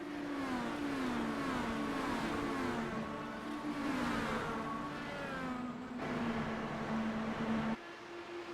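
IndyCar race cars accelerating in a pack at a green-flag restart at Kansas, engines roaring loud and continuous as several overlapping pitches climb and shift together through the gears.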